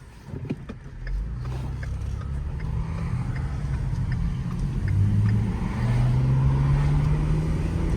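Steady low idle of a 2013 Ford Police Interceptor with its 3.7 liter engine, a continuous rumbling drone that rises slightly partway through, with faint creaks and ticks over it and no talking.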